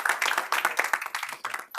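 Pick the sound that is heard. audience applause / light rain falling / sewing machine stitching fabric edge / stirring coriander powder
audience applause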